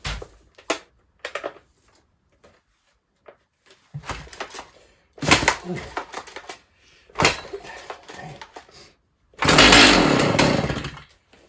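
A Stihl MS290 chainsaw, fueled and oiled after missing parts were installed, fires in short, loud sputtering bursts separated by quiet gaps, ending in a longer, louder roar.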